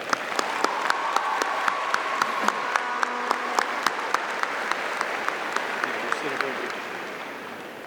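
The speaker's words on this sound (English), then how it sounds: "How about one more nice round of applause?" Applause fills a graduation ceremony hall, a broad, sustained round of clapping with a few sharp individual claps ringing out, faint murmurs beneath, gradually tapering off near the end.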